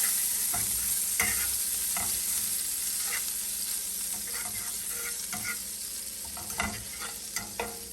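Butter melts and sizzles in a pan over low heat, a soft continuous fizz broken by repeated clinks and scrapes of stirring.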